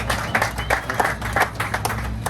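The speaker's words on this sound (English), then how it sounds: "We can applaud for that." Audience members at a motorsport car reveal for the new BMW M4 GT4 race car clap briefly, a short patter of applause over a steady low hum in the hall.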